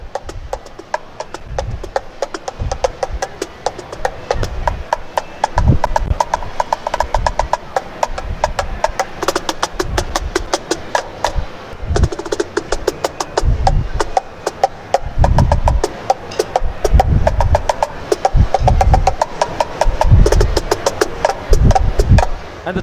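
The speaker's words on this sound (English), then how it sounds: "A lower bongo tone and a higher bongo tone." Stagg Tri-Tone Percussion Pad, a lap and travel cajon, played by hand in a busy groove that mixes deep low bongo thumps with sharper, higher slaps in a steady, fast rhythm, with no voice.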